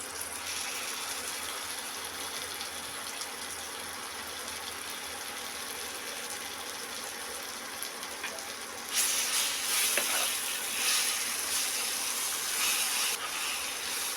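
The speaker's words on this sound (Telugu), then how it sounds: "మామిడికాయ తురుము ఇప్పుడు వేసుకుంటున్నా" Grated raw mango goes into hot oil for tempering, and the steady hiss of the frying swells into a louder, brighter sizzle partway through.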